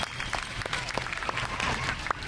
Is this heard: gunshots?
no